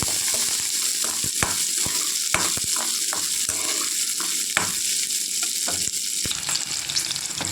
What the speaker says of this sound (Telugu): పచ్చిమిరకాయలు వేగినాయండి.